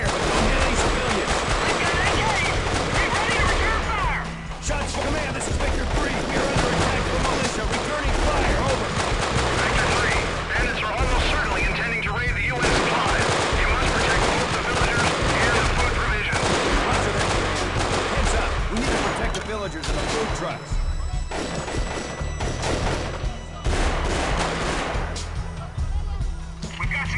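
Sustained automatic gunfire and overlapping bursts in the military shooter Delta Force Black Hawk Down during a village firefight, loud and nearly continuous throughout, with shouted voices mixed into the din.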